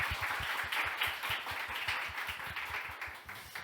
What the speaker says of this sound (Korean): 한번 박수 한번 쳐주시죠.